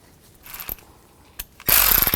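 A ratchet tightens the brake caliper guide pin bolts on the front brakes of a 2000-06 GMC Yukon. It gives a couple of faint clicks early on, then a loud, close, rapid run of ratcheting clicks to the end.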